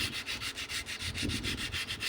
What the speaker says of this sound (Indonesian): Saya saranin ngamplasnya menggunakan amplas 1000 ya teman-teman ya, jadi lebih halus dan nggak terlalu kasar amplasnya.